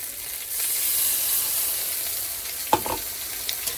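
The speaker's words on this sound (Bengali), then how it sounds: "এই সাইডে এই যে মশলা কষাতে দিয়েছি দেখো মশলাটাও ভাজা হয়ে গেছে" Spice masala fries in a pan with a steady soft sizzle, heard close, then a spatula stirs it, giving a few sharp scraping knocks near the end, with no voices.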